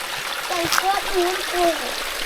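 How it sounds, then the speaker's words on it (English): Water trickles and splashes down a small, meandering waterfall in a rocky gorge near Kununurra, a steady close murmur under someone talking. "Just continues for ages, just this meandering sort of waterfall."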